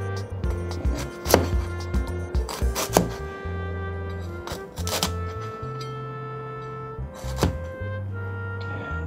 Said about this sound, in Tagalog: tapos hiwain natin siya ng pinong-pino